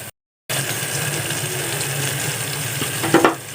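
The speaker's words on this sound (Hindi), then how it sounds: "आइए आपको भी दिखाऊं, घुगनी बन रहा है।" Ghugni, a Bengali pea curry, fries in a pan with a steady close hiss of sizzling, and a brief clatter of utensils comes near the end.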